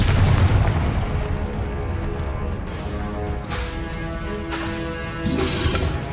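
Spell blasts in the Hogwarts Legacy video game, a string of booming bursts and crackling impacts spaced a second or two apart over a continuous game soundscape, with no voice heard.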